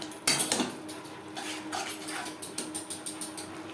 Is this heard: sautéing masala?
yes